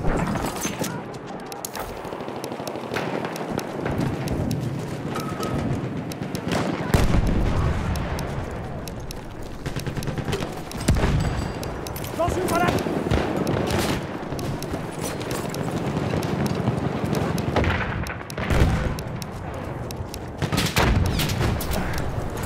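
Dense, continuous battle noise from the World War I shooter Battlefield 1, set on the Nivelle Nights map, with repeated gunshot cracks and bursts that fit enemy machine-gun fire, mixed with heavy explosions and rumble throughout.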